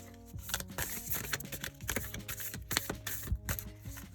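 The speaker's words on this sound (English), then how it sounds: "we're just gonna cut the deck, shuffle and cut the deck" A deck of tarot or oracle cards shuffled and cut, giving a fast, irregular run of crisp flicks and riffling snaps that is close and fairly loud, with a few sharper slaps near the end.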